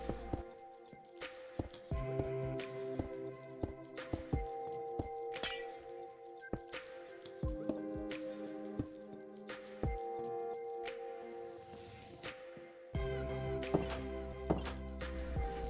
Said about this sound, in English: we can add in glass panes as well